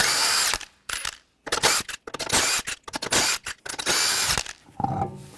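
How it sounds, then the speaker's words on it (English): Several loud bursts from a power tool with a 21mm socket spin lug nuts off the front wheel of a 2014-2020 Nissan Rogue, each whir stopping and starting in an irregular rhythm close by. "take the lug nuts off."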